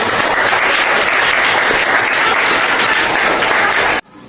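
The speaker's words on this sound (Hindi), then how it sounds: "एक बार जोरदार तालियां आप सभी को।" Loud applause from a crowd of students at a government school in India, a dense steady clapping roar for about four seconds that cuts off abruptly.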